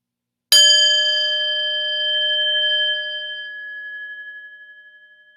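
A single mindfulness bell is struck once, giving a bright metallic ring with a clear sustained tone that slowly fades over several seconds in a quiet room.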